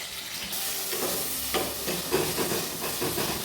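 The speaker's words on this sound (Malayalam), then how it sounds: "തക്കാളി ഇട്ട് വാട്ടി കൊടുക്കുന്നുണ്ട് ഞാൻ" Tomatoes sauté in hot oil in a pan for curry, giving a steady, fairly quiet sizzle and hiss throughout with faint stirring.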